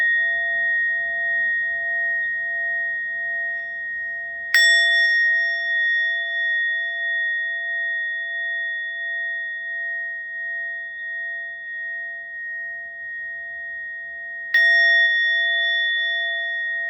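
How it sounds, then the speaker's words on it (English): A meditation bell rings clear and long, struck again twice with long pauses between, each bright tone slowly fading in a quiet room. "I'll invite 3 sounds of the bell"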